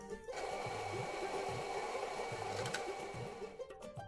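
A kitchen blender whirs in the Venba cooking game, a quiet mechanical drone with a repeating, pulsing rhythm that runs steadily for a few seconds before cutting off near the end.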